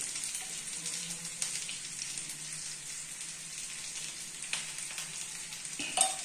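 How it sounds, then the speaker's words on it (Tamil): Fish wrapped in banana leaf fries in oil on a dosa griddle, a faint, steady bright sizzle with a few small pops and a clack near the end. "தேவையான அளவு எண்ணெய் ஊற்றி இந்த வாழை இலையில் கட்டி வச்ச மீனை அதில் வச்சுக்கணும்"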